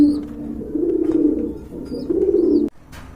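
Pigeons cooing close by, a pair of pet birds offered for sale, with low rolling coos repeating steadily over about two and a half seconds before stopping, plus a couple of faint higher chirps in the background.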